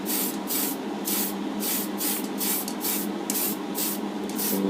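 Light coats of spray paint hiss onto a Deagostini Millennium Falcon model in a series of short even bursts, about ten evenly spaced sprays, close and clear with no talking.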